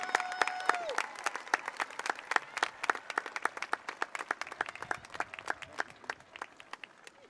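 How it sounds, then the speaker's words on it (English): A graduation audience applauds the principal, many hands clapping in a dense, steady burst that carries on without a break and eases off slightly toward the end. "how about a round of applause for your excellent principal"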